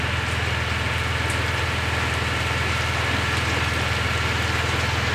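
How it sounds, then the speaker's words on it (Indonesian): Heavier rain pours onto a ship in a harbour at Lamongan, a constant loud wash of drops with a steady low mechanical hum beneath it and no voices. "Makin deras hujannya ya."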